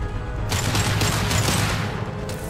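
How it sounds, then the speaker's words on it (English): An impact shot fired in the Mass Effect 2 video game comes as a dense, loud volley of blasts and crackling bursts lasting a couple of seconds, with no voices over it. "Firing an impact shot!"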